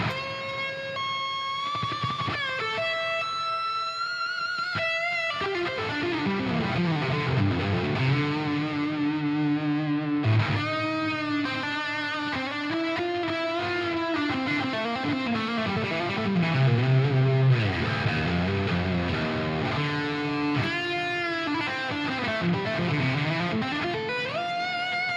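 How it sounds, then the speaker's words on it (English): Neural DSP Archetype Misha Mansoor X chaos pedal distortion, a loud, continuous wash of fuzzy, distorted tones with swooping, warbling pitch sweeps and octave-like layers that rise and dive throughout. "So it kind of sounds a bit distorted, a bit fuzzy"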